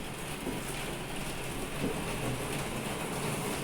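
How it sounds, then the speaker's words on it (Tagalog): Steady, heavy typhoon rain pouring down in Hong Kong, a dense unbroken hiss that swells slightly, with no voices. "Kanina, hangin. Ngayon, ulan naman."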